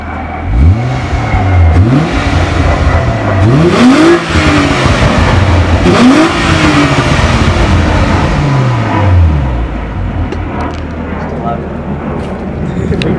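A 2008 Hyundai Tiburon's engine revs up and down repeatedly in rising and falling sweeps, with crackling exhaust pops, loud and close, while people talk over it.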